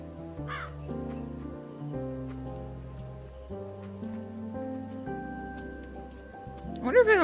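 A crow in a video game gives a brief caw near the start and another sharper call at the end, set against a sustained layered music track with soft pattering.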